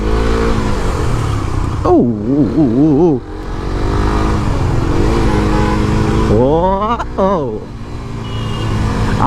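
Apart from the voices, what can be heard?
Suzuki Gixxer SF 250 motorcycle starting ride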